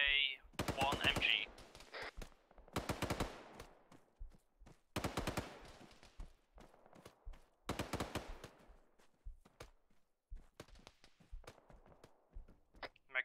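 Bursts of heavy machine gun fire from a rooftop HMG position in Arma 3, sounding in repeated loud volleys spaced a couple of seconds apart, with scattered single shots and fainter echoing fire between them.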